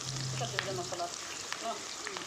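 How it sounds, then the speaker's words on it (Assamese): Onions frying in hot oil with bay leaves, a steady soft sizzle with occasional sharper crackles and light stirring, heard close and alone. "এতিয়া পিঁয়াজখিনি অলপ ৰঙচুৱাকৈ ভাজিব লাগিব ভালকৈ"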